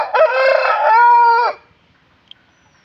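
A Kaki Dega fighting rooster, about one year old and 3.5 kg, lets out one loud, close crow lasting over a second, followed by near silence with a faint click.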